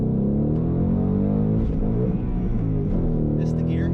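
A 2020 Mustang GT V8 on a racetrack drones loudly and steadily throughout with a missed gear shift, its engine note running alongside continuous talk from the driver.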